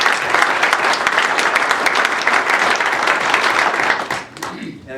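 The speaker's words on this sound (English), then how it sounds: "Let's give them a round of applause." An audience at a county freeholders' reorganization meeting applauds the culinary students who prepared the evening meal, producing dense, steady clapping that fills the room and then fades toward the end.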